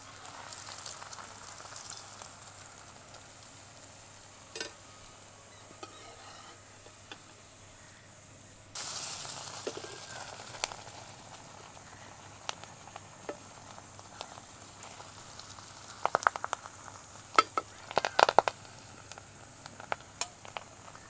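Betel leaf pakora frying in hot oil, a steady soft sizzle and bubbling that swells when another leaf goes in, with scattered light crackles and pops near the end.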